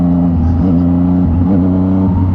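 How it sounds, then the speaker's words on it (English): A Yamaha FZ-09 motorcycle engine revs hard in second gear, a loud, close, steady growl that rises and dips in pitch as the throttle changes, with wind rush over it. "you can kind of hear the engine, you know, how it sounds"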